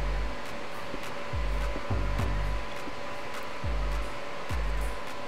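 A sewing machine runs a straight seam along a skirt, its motor whirring in several short, steady bursts over a constant background hum, with no talking.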